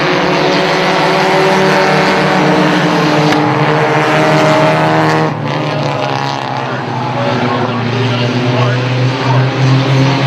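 Loud roaring engines of race cars speeding out of turn 4 on a track, a steady high-pitched whine with a pitch shift as they go by, continuous throughout.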